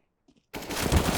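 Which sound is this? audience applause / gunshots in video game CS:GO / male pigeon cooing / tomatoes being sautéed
gunshots in video game CS:GO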